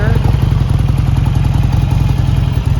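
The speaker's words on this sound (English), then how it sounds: "V-twin rumble." A 2009 Buell XB12SCG Lightning with a 1200cc V-twin engine and Jardine exhaust idles close by, giving a loud, steady, lumpy rumble with a regular pulsing beat.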